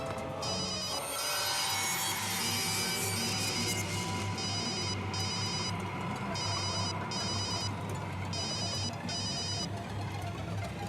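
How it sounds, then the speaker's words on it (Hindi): A telephone rings in repeated bursts of two trilling tones, clear over a dense background of music and ambience, with no talking. "रिया फोन उठाओ, रिया, रिया प्लीज फोन उठाओ"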